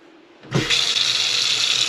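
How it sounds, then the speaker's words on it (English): Tap water starts abruptly and runs steadily for hand-rinsing laundry, a close, loud hiss and splash that continues without pause. "I'm going to rinse it again by hand."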